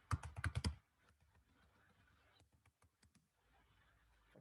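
Keyboard typing as a search is entered into Google, with a quick burst of loud clacking keystrokes at the start, followed by fainter scattered clicks and soft taps.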